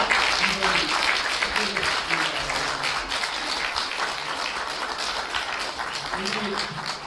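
A standing church congregation gives loud, sustained applause for Pastor Lee Young-geol, dense clapping filling the room steadily while a voice carries faintly over it.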